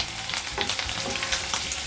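Minced garlic fries over a high flame in a pan for egg fried rice, a dense crackling sizzle with stirring scrapes running throughout, close and fairly loud.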